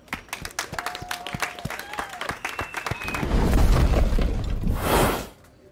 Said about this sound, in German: Applaus an die Bratans.